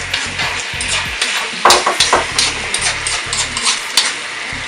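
Sauce simmering down in a pan while Filipino food cooks, a loud close sizzle and bubbling with scraping stirs and a low mechanical hum pulsing underneath.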